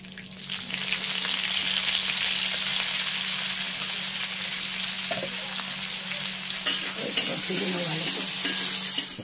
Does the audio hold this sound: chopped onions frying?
yes